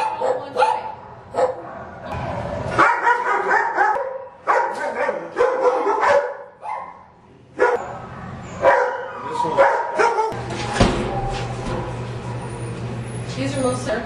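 Several dogs at an animal shelter bark and yip in irregular bursts, some close and loud, others further off in an echoing kennel, while a person talks now and then.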